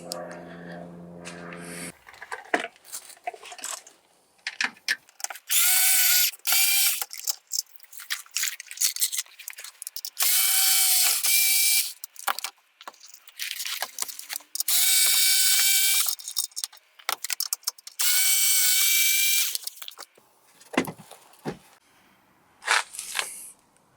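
Screws coming undone on the power steering pump of a Vectra C GSi, with bursts of a whirring power tool alternating with ratchet clicks and clatter, close by with quiet gaps between.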